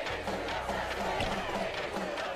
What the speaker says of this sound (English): The crowd is heating up.